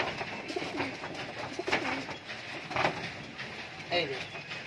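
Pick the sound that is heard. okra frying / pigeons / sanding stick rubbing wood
pigeons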